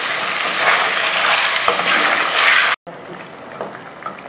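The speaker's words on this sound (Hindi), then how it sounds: "गोश्त डाला, लहसुन डाला, इसको भूनते हैं पहले।" Mutton and garlic fry in a pan for masala mutton, a loud, busy sizzle with stirring scrapes that suddenly cuts off, then resumes softer and calmer after a brief silence.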